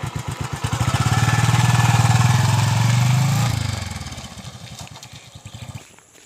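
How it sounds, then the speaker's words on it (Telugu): A motorcycle on farmland pulls away, its engine loud and close with a throbbing mid-pitched rumble that fades over several seconds as it rides off. "వెళ్తున్నాడు చూడండి బైక్ పైన."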